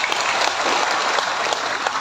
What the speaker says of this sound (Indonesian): Tepuk tangan dulu niki.